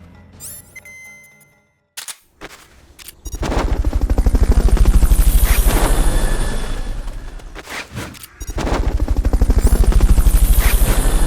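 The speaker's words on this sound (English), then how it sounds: "Fulton recovery helicopter is complete." Fulton recovery helicopter in Metal Gear Solid Peace Walker: after a few sharp bursts, a loud rotor roar swells and holds with a fast chopping pulse, dips briefly, then returns strong.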